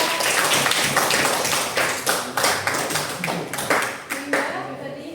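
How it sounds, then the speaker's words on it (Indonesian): A room full of people applauds, steady clapping that swells and then tapers off near the end. "tepuk tangan dulu untuk Bu Indah."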